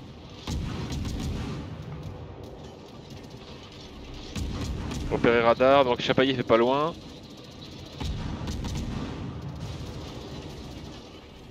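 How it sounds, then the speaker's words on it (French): Rapid gunfire from the four-gun USS Farragut destroyer in World of Warships, the cannons firing about every three seconds as repeated booms amid battle noise, with someone talking over much of it. "c'est mitrailleuse en fait le Farragut. Il tire tous les 3 secondes."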